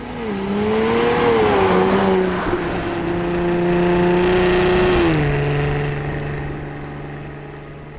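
A supercharged Jaguar F-Type engine revs and pulls hard with a rising, whining tone, shifting gears and then easing off as it passes.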